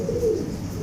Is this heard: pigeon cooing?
yes